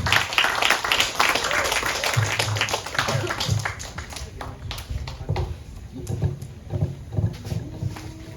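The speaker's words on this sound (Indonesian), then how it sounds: "Tepuk tangan." Applause from a small audience at a poetry gathering in Kediri, fairly close and strongest at the start. It then thins into scattered claps and thumps with faint chatter.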